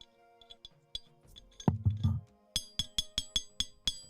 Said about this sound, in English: Yeah, this is the sound of metal.